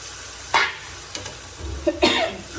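Prawns go into a hot pan and sizzle as they are stirred, with a sharp hiss, light scraping and clinks of the utensil coming close and loud at irregular moments over a steady background frying noise.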